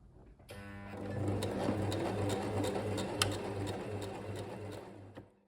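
A sewing machine stitches obi fabric in a steady, even hum with a regular rhythmic pulse, running close and fairly quiet for several seconds before stopping, with a few light clicks along the way.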